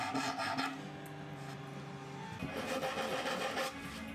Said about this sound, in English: followed by a little sanding.